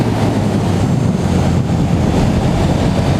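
KTM 1290 Super Duke R motorcycle from 2017 accelerating hard while held in a single gear, a loud, steady engine roar mixed with heavy wind rush across the microphone, with no pause throughout.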